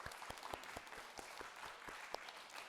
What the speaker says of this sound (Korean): 하나님께 영광과 박수 올리겠습니다.